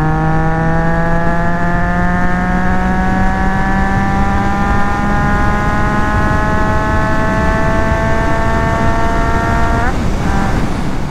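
A Triumph Trident 660 three-cylinder motorcycle engine is heard on the move, its loud steady drone climbing smoothly in pitch as the bike accelerates, then dropping abruptly at a gear change near the end, with wind rush throughout.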